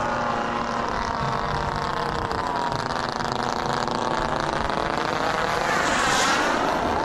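A warbird airplane comes in to land at a bomber airfield amid a formation gaggle, its propeller engine droning steadily and loudly, the roar holding even and swelling slightly near the end.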